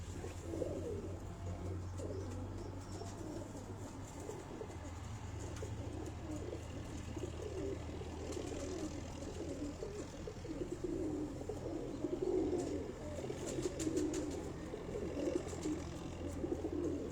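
Pigeons coo steadily on a rooftop loft, soft repeated throaty calls layered over one another, with faint background noise and occasional light rustling throughout.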